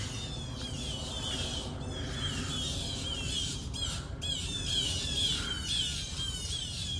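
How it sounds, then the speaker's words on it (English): Birds in Central Park squawk and chirp in busy, repeated high calls over a low rumbling background, fairly faint and with no talking. "You hear those birds chirping?"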